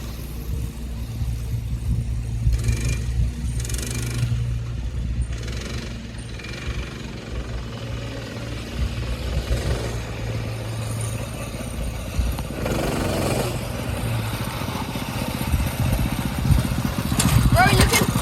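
A go-kart engine with a slipping clutch runs close by, a rough, buzzing drone that surges and sags, rising in intensity toward the end, with people talking over it.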